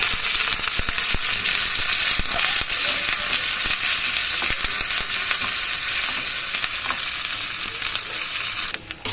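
Loud, continuous crackling sizzle of shallots and curry leaves frying in hot oil, with scattered sharp pops throughout and no voices.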